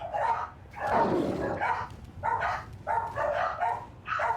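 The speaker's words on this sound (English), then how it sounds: "I wish they wouldn't bark at all." Dogs bark steadily, with repeated loud, close barks coming in a quick, uneven series that keeps going throughout.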